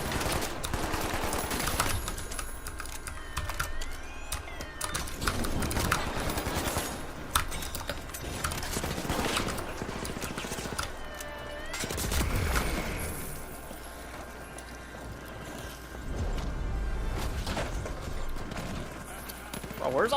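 Rapid video game gunfire rattles in sustained bursts with mechanical clanks, loud and dense throughout, with a player's voice talking over parts of it.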